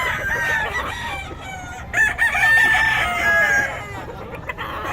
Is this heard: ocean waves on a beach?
no